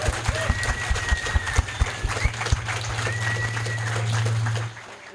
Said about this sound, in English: Let's get a big round of applause for them.